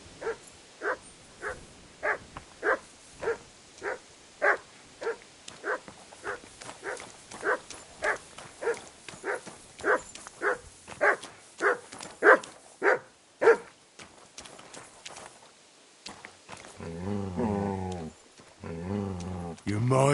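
A dog barks in Kingdom Come: Deliverance 2, a long run of evenly spaced barks, loud and close, followed near the end by someone speaking.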